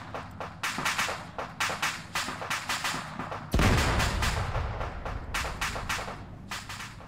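Airstrikes in the PMC PvP Ops video game, a loud heavy barrage of rapid explosive blasts and gunfire pounding in quick succession, with one especially big boom midway followed by more sustained volleys.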